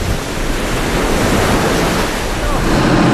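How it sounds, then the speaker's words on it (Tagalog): Rough sea waves slapping against a boat as it nears an island, a loud continuous wash of surf and wind noise buffeting the microphone throughout. "Habang lumalapit tayo sa isla, mas lalong gumagrabe yung alon."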